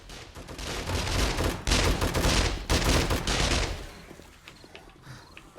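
Automatic turrets in the video game 7 Days to Die fire in loud, sustained bursts of rapid gunfire that run for several seconds, then thin out and fade toward the end.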